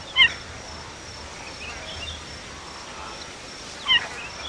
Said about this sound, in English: You'd hardly believe a cheetah would call with this almost bird-like chirp